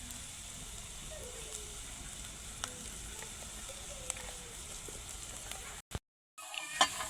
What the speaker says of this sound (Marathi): अजून एक दोन मिनटं मी चांगला परतून देणार आहे